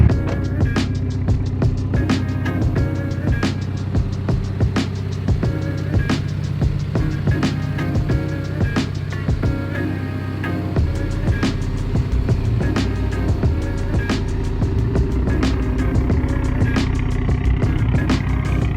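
A Mitsubishi Evo 10 on coilovers drives on the road, its engine droning loud and steady with a low rumble and rhythmic mechanical ticking throughout.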